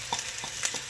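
Mushrooms and green onions land in a hot pan for fried rice. A brief steady sizzle plays under a few light scraping stirs.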